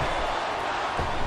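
Roar of a capacity arena crowd in a wrestling video game, King Booker versus Rey Mysterio at Great American Bash, a dense steady wash of cheering that stays loud and continuous throughout.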